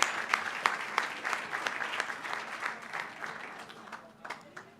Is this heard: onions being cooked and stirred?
no